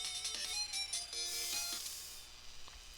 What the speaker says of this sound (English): Now there goes the phone.